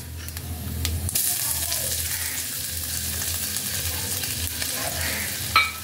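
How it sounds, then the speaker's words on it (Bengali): Grated ginger frying in hot oil with a steady, close sizzle, broken by occasional stirring scrapes in the pan, while preparing biulir dal (split black gram) with vegetables. "আদাটাকেও তেলের মধ্যে একটু ফ্রাই করে নেব যাতে আদার কাঁচা গন্ধটা চলে যায়।"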